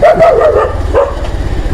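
Dog barking at the roadside, a few loud, close yelping barks with traffic in the background.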